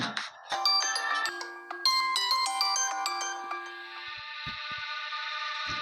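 A mobile phone's melodic ringtone plays loud and clear in a Tamil short film scene. Quick electronic chime notes are followed by a sustained buzzing tone that fades, with no talk over it.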